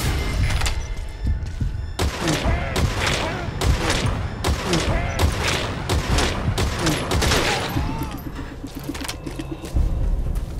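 Unsuppressed gunfire in the video game Metal Gear Solid V rings out in repeated loud bursts, sharp cracks and thumps following one another rapidly across the whole stretch.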